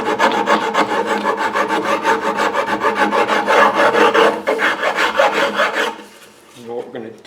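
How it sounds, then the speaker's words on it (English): A wooden guitar neck is shaped by hand with a dragon file and a Japanese rasp, giving loud, close, rhythmic back-and-forth rasping strokes that run continuously, then stop briefly near the end. "so now we'll do some filing, and then we'll go to some sanding"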